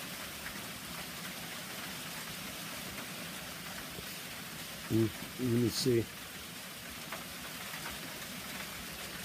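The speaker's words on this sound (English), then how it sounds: "I thought this rain would be a nice background for a couple of videos, but it makes a lot of noise" Rain falling at the edge of the woods, a soft steady patter that goes on throughout, with a short spoken phrase from a person partway through.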